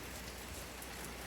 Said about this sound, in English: Anyway, it is really raining.